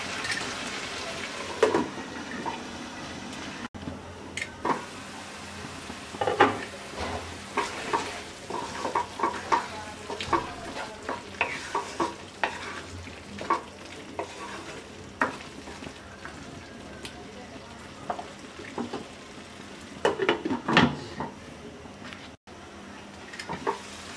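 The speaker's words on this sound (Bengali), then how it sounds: "এবার মিডিয়াম লো হিটে 5 মিনিট রান্না করব।" Spinach and potato cook in a pan over medium-low heat, a soft low sizzle broken by frequent clinks and scrapes of a spoon against the pan, close and moderately quiet.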